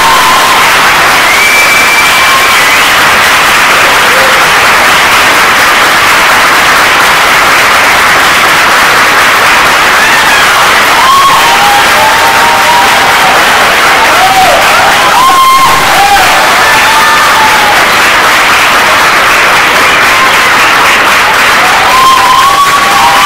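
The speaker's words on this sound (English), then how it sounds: "Give our graduating men and women a rousing round of applause." Loud, sustained applause and cheering from a crowd at a Navy medical laboratory technician class graduation ceremony, with whoops and shouts rising over steady clapping throughout.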